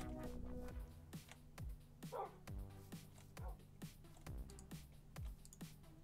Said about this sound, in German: Oh, endlich habe ich Hunde gefunden.